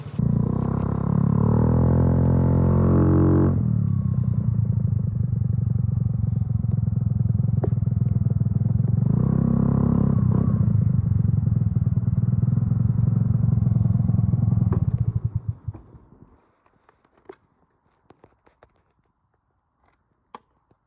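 A Honda Navi scooter fitted with a GY6 CDI idles close by, a steady buzzing engine note that rises briefly twice before the engine shuts off. A few clicks and clatters follow in near silence.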